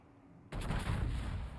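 Naval gun salvo in World of Warships, a sudden heavy booming volley that bursts in after a quiet moment and rolls on as a loud, rumbling roar, alone without talk.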